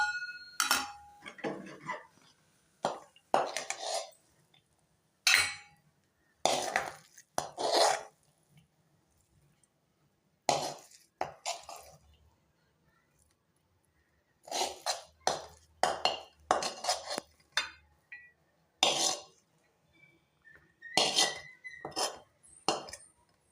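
Sweet avalakki (flattened rice) pongal is served into a bowl, with repeated clinks and scrapes of utensils against dishes in bursts separated by quiet gaps, close and fairly crisp, with no talking.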